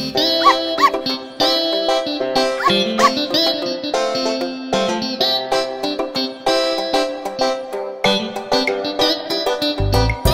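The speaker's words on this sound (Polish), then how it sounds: "A ten piesek płakał bu, bu, bu, całą drogę do domu." A puppy cries in a cartoon children's song. Whimpering, yelping dog-like sounds repeat in rhythmic bursts and are woven into a bouncy musical accompaniment that plays throughout.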